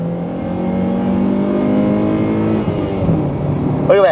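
A second-generation Honda CR-V with a K24 engine accelerates hard, a steady loud engine drone rising in pitch as it pulls on the road, with brief faint voice sounds near the end.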